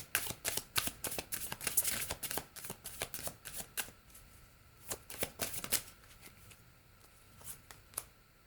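Chakra Intuition Oracle cards being shuffled, a rapid continuous run of crisp riffling flicks, close and quiet, slowing into more spaced-out card snaps toward the end.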